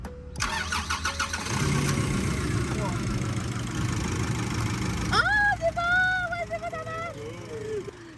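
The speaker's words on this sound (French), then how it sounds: "si j'allume le moteur, là, la LED, elle va s'allumer" A 4x4's engine cranks and catches, settling into a rumbling idle, then revs up briefly while a person talks over it.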